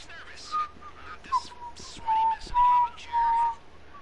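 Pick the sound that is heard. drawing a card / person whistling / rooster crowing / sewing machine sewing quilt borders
person whistling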